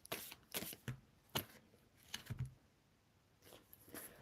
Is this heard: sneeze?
no